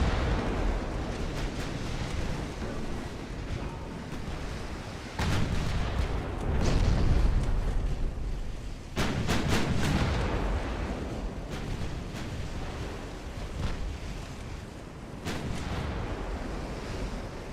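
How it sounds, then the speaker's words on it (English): Torpedo strike on a warship in the naval battle game Ultimate Admiral: Dreadnoughts, heavy booming blasts rolling over a constant roar of sea and surf, with several loud surges spaced across the stretch. "Had to be allowed to get the one torpedo hit in."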